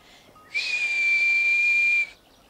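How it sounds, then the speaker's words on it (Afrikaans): A single clear, sustained whistled tone from a person, held steadily for about a second and a half against a quiet background. "Ek kan net so goed soos jy fluit, Pieter, hoor net."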